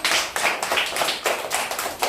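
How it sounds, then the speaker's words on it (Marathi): A group of children claps in a quick, steady rhythm, about eight sharp, close claps in two seconds. "आता सगळे तिच्या मागे चला आणि टाळ्या वाजवा"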